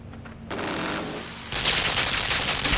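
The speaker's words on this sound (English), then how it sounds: "Machine gun." Machine gun fire from the video game Limbo rattles out as a loud, dense, continuous burst that grows harsher and fuller partway through.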